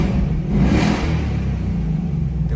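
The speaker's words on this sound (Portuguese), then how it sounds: "seria o escape esportivo." Ford Mustang Dark Horse V8 with the sport exhaust setting, a single loud rev that peaks within the first second and falls back to a deep, throbbing idle, close up with no voices.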